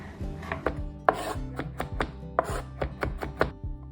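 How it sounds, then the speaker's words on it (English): Quick, steady knife chopping of garlic cloves against a board, about a dozen crisp taps in a brisk rhythm, close up with no voices. "Next up, quickly chop 3 cloves of garlic."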